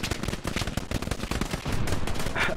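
Rapid machine gun fire in a multiplayer war game, a steady stream of sharp, close bursts rattling throughout with no pauses or talking.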